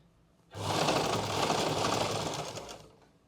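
A sewing machine stitches elastic into a pair of pants, running steadily and close for about two seconds before stopping, with no talking.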